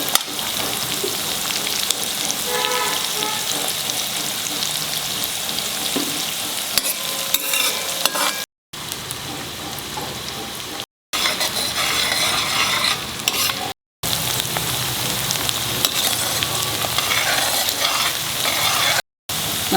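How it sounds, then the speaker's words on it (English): One big finely chopped onion fries on a high flame while being stirred, giving a steady, loud sizzle and scraping that runs continuously for about twenty seconds, broken only by a few very short silent gaps. "finely chopped 1 big onion and stir it, fry it till it becomes slightly brown."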